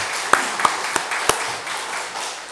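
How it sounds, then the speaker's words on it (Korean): Scattered claps from a church congregation giving praise, just a few distinct sharp hand claps spaced unevenly over a soft room hum, loud and close. "하나님께 영광의 박수 돌려드리겠습니다."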